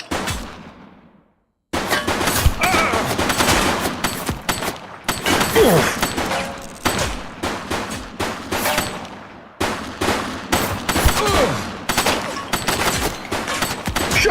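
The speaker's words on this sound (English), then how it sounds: "Shots fired!" Rapid bursts of gunfire in the police game The Precinct, loud sustained volleys of shots crackling close by, broken by a brief silence near the start and short pauses between bursts.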